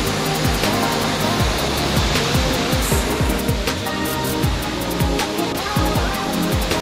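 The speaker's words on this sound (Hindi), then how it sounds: "अभी मैंने खाली पानी मारा है प्रेशर से" A pressure washer blasts water against the underbody of a car, a loud, continuous hissing spray with rapid uneven spatters and no talking.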